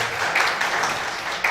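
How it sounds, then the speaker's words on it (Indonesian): Applause from a wedding audience honoring a couple married 32 years: a dense, steady wash of clapping, fairly loud and sustained throughout. "Beri tepuk tangan dong saudara."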